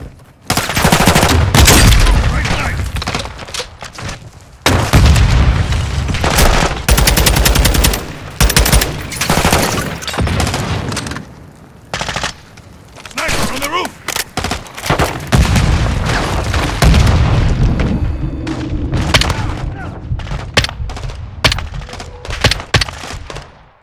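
Loud, dense gunfire and explosions from the video game Call of Duty Modern Warfare II, with long sustained automatic bursts, heavy booms and brief pauses between volleys.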